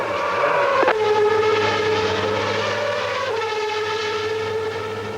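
A race car engine fires up and settles into a loud, steady idle with a strong droning tone, a brief blip near the start and a slight drop in pitch later, no talk over it.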